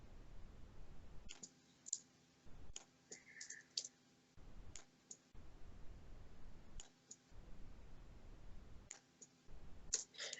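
Mouse clicks during a computer programming session, sharp isolated ticks spaced irregularly over quiet room hiss, about a dozen over ten seconds, with no talking.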